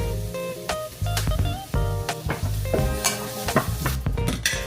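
Mushrooms fry in oil in a pan while a utensil stirs them, giving close, repeated scraping and clacking strokes over a steady hiss of sizzling.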